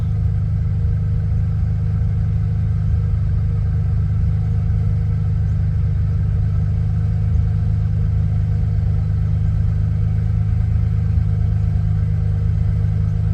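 Ford Bronco engine idling steadily at about 1,000 rpm during a restoration after a timing adjustment, a low, even rumble close by with no talking.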